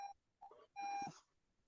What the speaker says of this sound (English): or there's beeping. Is that from you all?